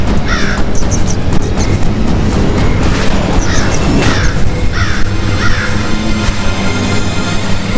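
Crow cawing loudly several times in short harsh bursts, layered over a heavy rumbling background and dramatic effects in an animated devotional scene.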